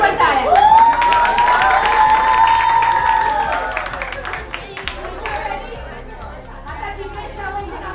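Applause for the helpers who made a family trip possible, a crowd clapping loosely amid chatter and voices, with a whistle-like tone early on, the clapping thinning and fading toward the end.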